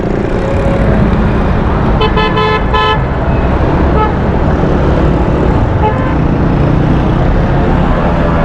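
Heavy road traffic at Qalandaria Chowk in Karachi roars loud and close without a break, with engines, a few short horn toots and vehicles passing through the busy junction.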